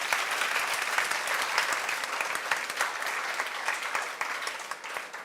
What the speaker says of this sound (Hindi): ताली बजा दो इसके लिए एक बार